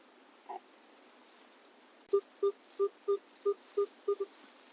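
Minelab X-Terra Elite metal detector giving a signal tone over a target, a series of about eight short, evenly spaced beeps, clear and close over a steady faint hiss.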